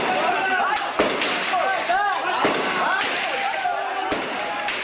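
Gunfire during a prison escape, with sharp cracks and thumps repeating irregularly over a loud wash of crowd noise, shouting voices and sirens, all heard in a rough recording.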